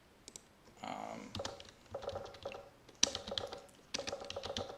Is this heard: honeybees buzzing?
no